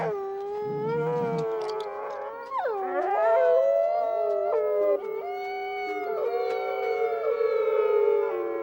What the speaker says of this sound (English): Howling is a signal to assemble the pack.